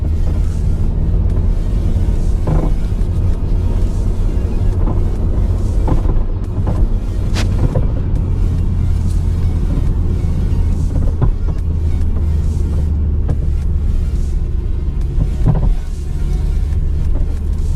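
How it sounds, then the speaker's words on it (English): Car with a bad front-suspension ball joint and tires worn to the wire, heard from inside while driving: steady road and engine rumble broken by occasional sharp clunks at irregular intervals. "it's a clunking noise in the front of your car"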